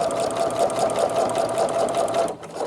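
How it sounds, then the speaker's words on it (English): A Singer Futura XL 550 sewing machine stitches through faux leather vinyl, a close, loud, rapid rhythmic whirr with steady needle clatter that slows near the end. "this machine is a good sewing machine"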